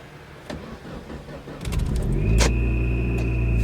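A car engine cranks briefly and catches on the first try, settling into a loud, steady idle rumble at close range.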